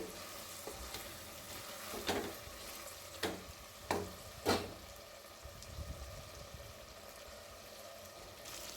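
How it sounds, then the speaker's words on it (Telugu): Mutton fries in masala on a high flame with a steady, close sizzle. Several sharp scraping clatters from stirring break through the sizzle. "ఈ మసాలాలో మటన్ ఫ్రై చేసుకోవాలి హై ఫ్లేమ్లోనే పెట్టి ఈ విధంగా ఫ్రై చేసిన తర్వాత"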